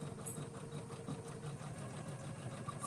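An embroidery machine stitches out an appliqué piece with a quiet, steady mechanical whir and rapid needle chatter that continues evenly throughout, without speech.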